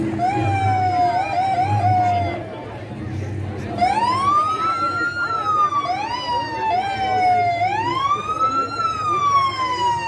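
An older police car siren wails nearby in a Christmas parade, rising and falling in long sweeping cycles, loud and steady throughout.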